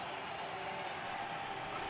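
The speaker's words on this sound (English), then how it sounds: "See the crowd's getting a little bit more into it." Steady crowd cheering and murmuring in the stands of a baseball video game, MLB The Show 18, a diffuse, moderately loud wash of noise with no distinct peaks.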